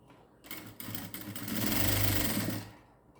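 A sewing machine runs a steady stitching burst on a blouse sleeve, starting softly, swelling louder in the middle and easing off near the end, with no voices over it.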